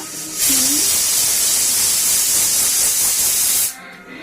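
A pressure cooker holding peas and potatoes lets out a loud, steady hiss of escaping steam that lasts about three seconds and then stops abruptly, with a brief whistle tone near its start.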